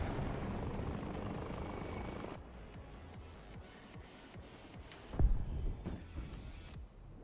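A helicopter in the War Thunder video game gives a faint, rapid rotor chop, thicker at first, then thinning to a light, steady beat with a sharp thump near the end.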